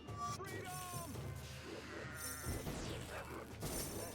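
In the Kingdom Rush tower defense game, a polymorphed sheep bleats amid battle sounds, with short wavering cries over crashes and shattering effects while a voice talks in the background.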